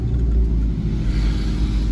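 Road traffic on Asin Road in Baguio: a constant low rumble of nearby cars crawling along in congestion, with an engine droning steadily and no pauses.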